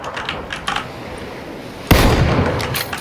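A loud gunshot bursts out in PUBG (PlayerUnknown's Battlegrounds), trailing into a sustained rumble. Light, soft clicks come before it.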